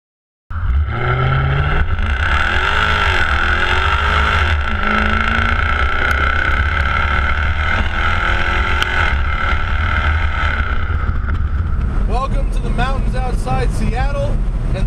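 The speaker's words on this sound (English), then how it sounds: "the 2014 Jaguar F-Type V8S" A 2014 Jaguar F-Type V8S roadster with a supercharged V8 drives on roads outside Seattle, its engine droning loudly and rising through the gears, with wind noise over the whole clip and a gear change near the end.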